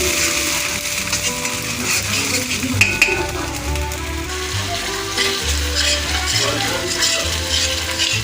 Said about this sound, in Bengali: পেস্ট করা মশলাটা আমি 5 মিনিট কষে নেব